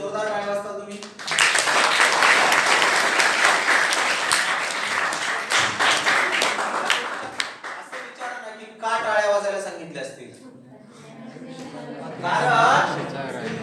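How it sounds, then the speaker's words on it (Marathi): Sustained audience applause fills a Marathi career-guidance motivational lecture hall, loud and steady for about eight seconds before thinning into scattered claps and chatter, with voices talking near the end. "मॅडम साठी जोरदार टाळ्या वाजता तुम्ही।"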